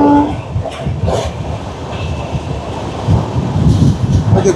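The 12041 Howrah to New Jalpaiguri Shatabdi Express running on rails gives a loud continuous rumble with rhythmic clickety-clack of wheels over joints, heard from on board.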